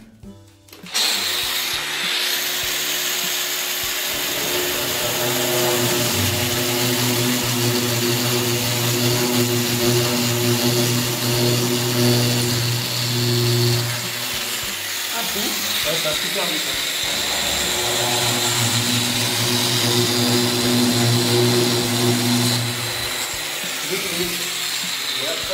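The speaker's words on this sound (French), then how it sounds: "c'est fait pour percer des trous" An M14 power tool drills holes in tile with a loud, continuous hissing whine and a steady low hum that runs for over twenty seconds with only slight dips.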